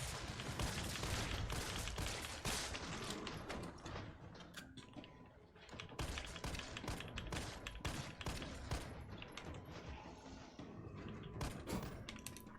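Rapid pistol gunfire from Resident Evil 3, shots cracking in quick irregular bursts that run almost continuously through the stretch, loud and close, with only a brief lull near the middle.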